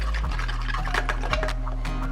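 Cooking liquid with ground meat pours through a strainer in a steady trickle, with faint drips and splashes over a low kitchen hum.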